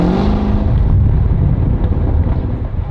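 A loud, close C7 Corvette engine, not yet warmed up, rumbles and revs with a rough, crackling low-end growl, continuous throughout.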